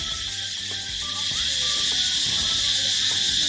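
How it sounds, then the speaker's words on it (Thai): A dense, continuous high-pitched buzzing drone of cicadas fills the evening air in the hills, steady and loud throughout. "เสียงจักจัน"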